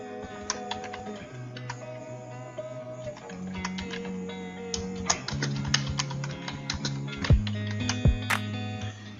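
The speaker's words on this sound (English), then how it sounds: "when I click, I'm going to type" Keys clatter in quick irregular bursts of typing on a computer keyboard, close and fairly clear, with steady soft music underneath and no talking.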